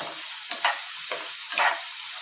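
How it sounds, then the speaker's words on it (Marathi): Turmeric and salt being sautéed in a pan, a steady sizzle with a few soft stirring scrapes recurring every half second or so, close and fairly quiet, with no voices. "तर तुम्ही बघू शकता मी व्यवस्थित इथे परतून घेत आहे"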